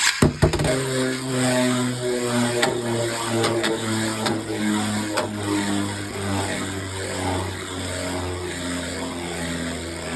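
A Beyblade X Knight Lance spinning top launched and whirring on a stadium floor, a sharp start followed by a steady, close, humming drone that holds evenly without talk.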